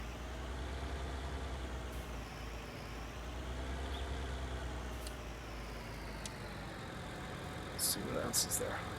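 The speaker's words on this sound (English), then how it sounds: "I prefer the engine sound on this." A farm vehicle engine in Farming Simulator 19 drones with a low, steady rumble, while someone talks over it throughout and a few brief higher clanks and hisses break in near the end.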